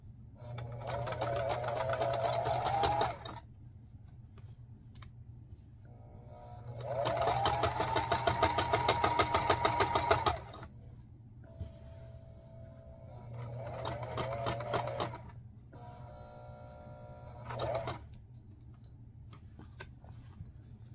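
Sewing machine stitching a quilt made from repurposed Crown Royal bags, with backstitching at start and end: fast mechanical stitching runs of a few seconds each separated by pauses, a low motor hum underneath, close by.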